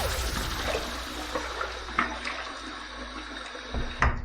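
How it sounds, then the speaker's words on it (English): Tap water running and splashing in a sink as a face is wetted before a shave with a safety razor, a steady close rush with a few louder splashes. "Let's wet the face and let's get to the shave."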